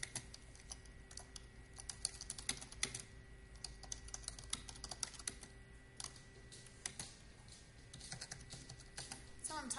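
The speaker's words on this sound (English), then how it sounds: "So I'm typing my address back in." Rapid, irregular keyboard typing clatters steadily in bursts for several seconds, close and fairly quiet, with faint room noise underneath.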